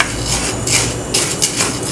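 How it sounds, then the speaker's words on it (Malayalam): A spoon stirs urad dal frying on medium flame in a hot pan for idli podi, giving scraping metallic strokes in an irregular rhythm over a low steady background, close and alone with no voices. "ഇതിന് ഒരു ലൈറ്റ് ബ്രൗൺ ആവുന്നത് വരെ ഇടയ്ക്കിടയ്ക്ക് ഇതുപോലെ ഒന്ന് ഇളക്കി കൊടുത്താൽ മതി"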